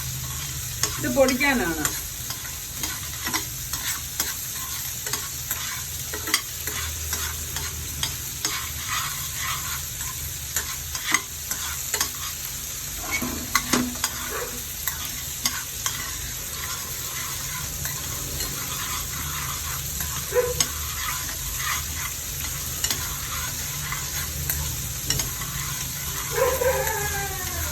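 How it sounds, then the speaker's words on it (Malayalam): Two tablespoons of mustard seeds are dry-roasted in a pan for tomato pickle. A spoon scrapes and stirs steadily over a faint sizzle, a dog barks now and then in the background, and someone speaks briefly. "ഇനി ഇതിൽ ചേർക്കാനുള്ള 2 ടേബിൾ സ്പൂൺ കടുക് കൂടെ ചേർത്ത് കൊടുക്കാം. 2 നന്നായിട്ട് വറുത്തെടുക്കണം."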